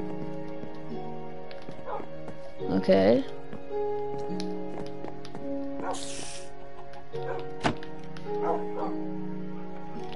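Dog barks and yips from a Minecraft dog mixed in with game music, while someone talks over them. The barks are short and come at intervals, with a small whimper.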